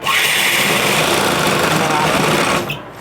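A sewing machine stitches a sofa cover in one loud, continuous, close-up buzzing run that cuts off abruptly near the end.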